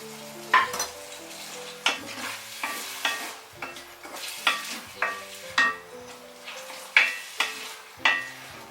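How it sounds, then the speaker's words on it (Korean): Spicy tomato shrimp pasta sauce, loosened with pasta water, sizzles softly in a pan while a utensil stirs it in regular scraping strokes, about one every half second, close and clear with no talking. "이제 조금 끓여주면서 농도를 조절하겠습니다."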